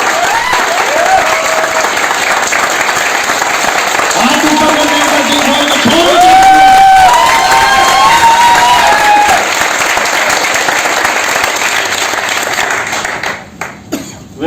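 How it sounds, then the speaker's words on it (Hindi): An indoor audience breaks into sustained applause and cheering at a business seminar, dense clapping that builds, peaks midway and fades near the end, with a voice speaking over it. "ठोक दो ताली की बात"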